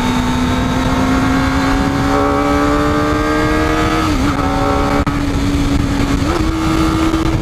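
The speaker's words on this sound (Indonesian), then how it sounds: "Dan ini quick shift-nya up and down." A Kawasaki ZX25R motorcycle's high-revving four-cylinder engine drones loud and close, holding a steady high pitch that dips briefly at each quick-shifter gear change and then climbs again.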